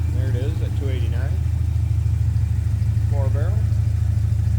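A 1967 Ford Mustang coupe's 289 V8 with a 4-barrel carburetor idles steadily with a low, even rumble while someone talks over it nearby.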